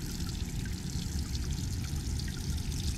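Water from the discharge outlet of a 12V DC marine air conditioner on the starboard side of a 2022 Jeanneau 795 Sport boat, pouring out in a steady loud splashing stream with no talk.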